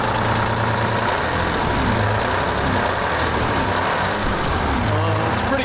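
A V12 two-stroke diesel in a heavy-haul 1975 Peterbilt truck runs steadily, a loud continuous engine drone with a faint high whine throughout, and people talk over it at times.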